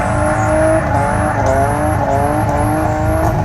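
A Lexus IS300 drift car with a custom exhaust holds a loud, sustained high rev during a burnout, its engine droning steadily and close up throughout.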